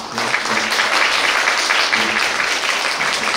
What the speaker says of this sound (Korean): 여러분 긴장하시고 박수 한번 보내주시죠.